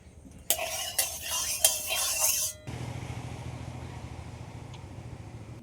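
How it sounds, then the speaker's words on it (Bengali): Mustard oil goes into a hot wok in a kitchen: a bright hiss and crackle with a few clinks for about two seconds, then a steady low frying rumble. "কড়াইতে সর্ষের তেল দিয়ে দিচ্ছি।"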